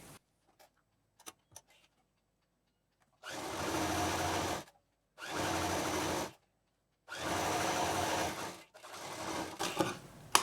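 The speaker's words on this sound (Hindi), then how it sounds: "तो यहाँ डबल सिलाई देते हुए मशीन चलाएंगे" A sewing machine runs a double seam on a handbag in three distinct bursts of steady stitching, each a couple of seconds long, separated by silent pauses with a few faint clicks before and after.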